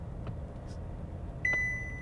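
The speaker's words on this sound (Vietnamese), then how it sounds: "đi sát vào nữa thì nó sẽ là có tín hiệu gì tít tít tít nhẹ nhẹ này đấy" A Mobileye 630 driver-assist unit sounds a faint, steady warning beep inside a moving car, starting partway through over the quiet hum of the cabin.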